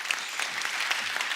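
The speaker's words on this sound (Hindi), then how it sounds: "एक बार श्रद्धा और सुशांत के लिए जोरदार तालियां।" Studio audience applause on a Hindi comedy talk show as two film-star guests are welcomed, a dense, even roar of clapping hands filling the room, loud and continuous for a brief moment with no voices over it.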